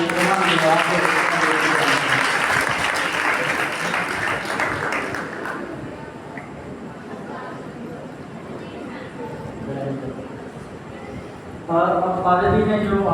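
An audience at a church Bible study session claps in steady applause that fades after a few seconds into murmuring, then another burst of clapping rises near the end.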